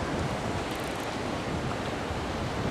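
Ocean waves washing back down a fishing beach, a steady broadband hiss of surf close by with no clear breaks over a few seconds.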